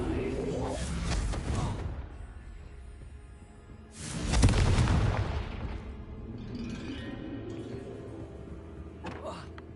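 A Confringo spell explosion in the game Hogwarts Legacy bursts loudly mid-clip with a deep boom and rumbling tail, preceded by a softer blast and followed by lighter effects amid game sounds.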